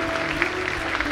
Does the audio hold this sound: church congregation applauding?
yes